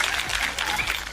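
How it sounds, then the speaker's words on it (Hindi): Dense, loud audience applause at a Hindi comedy kavi sammelan poetry event, a continuous burst of clapping with no voices over it. "अगर आप बात समझ गए तो एक बार जोरदार तालियों के साथ"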